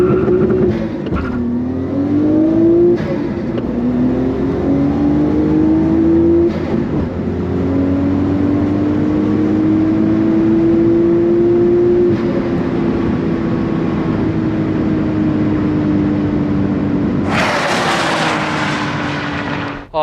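A drag race car launches with its tires spinning, a loud sustained engine roar that rises and falls through gear changes, ending in a sharp high-revving burst near the end.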